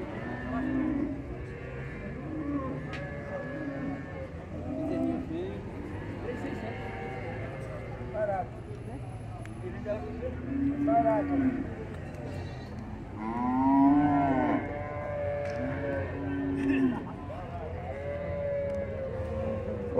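Cattle penned at the São Bento do Una livestock fair in Pernambuco, repeated moos from several animals near and farther off, steady over a murmur of voices and people talking.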